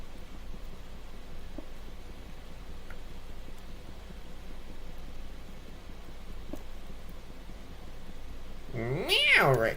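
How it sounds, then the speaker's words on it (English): A house cat lets out a single clear meow near the end, close and fairly loud, after several seconds of quiet room noise with faint ticks. "Meow, Retro"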